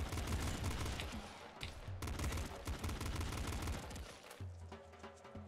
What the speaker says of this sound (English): Trying to, like, burst shot so I don't waste too much ammo when I'm firing.